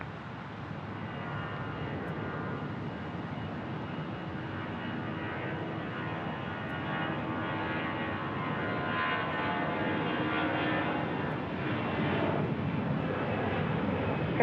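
An airplane landing at Phoenix Sky Harbor Airport, heard as a steady, fairly loud broadband roar of aircraft engines that holds for the whole stretch and swells slightly near the end, with no talking.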